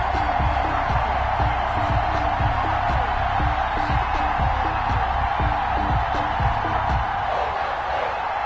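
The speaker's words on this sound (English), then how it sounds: "This crowd is ready as their guys get set to match up between the Kansas City Chiefs and the New England Patriots." An NFL stadium crowd in a football video game, Kansas City Chiefs against New England Patriots before kickoff, roars in a constant dense wall of cheering, with rhythmic low thumps and faint commentary voices underneath.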